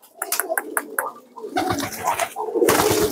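Gambir pigeons from Temanggung coo in a series of close, throaty calls, with rustling and shuffling and a louder burst near the end.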